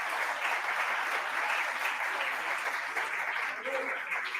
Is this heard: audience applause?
yes